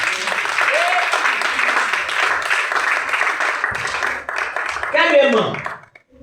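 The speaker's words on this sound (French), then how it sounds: "Acclame le Seigneur Jésus." A church congregation claps and cheers in a sustained burst of applause that fades near the end, when a voice rises above it.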